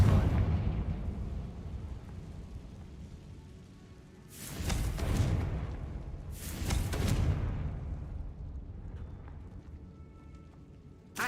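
The Confringo fire spell in Hogwarts Legacy lets off two loud, booming blasts a couple of seconds apart, each rolling into a rumbling tail over a low ambient background.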